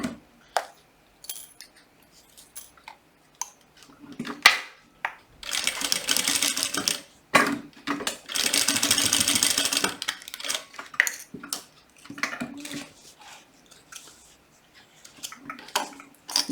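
A sewing machine stitches along the edge of a butterfly-shaped fabric pouch in two short runs of rapid rattling, separated and followed by clicks and light handling taps.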